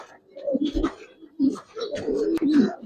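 Pigeons at a breeding farm in Mirpur, Dhaka, coo in close, overlapping throaty phrases that rise and fall over a few seconds, with no voices.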